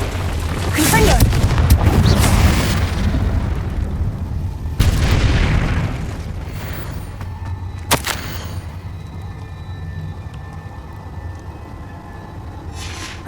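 Confringo blast spells fire in the video game Hogwarts Legacy: a rumbling explosive burst, then two sharper booms a few seconds apart, each fading into quieter game ambience.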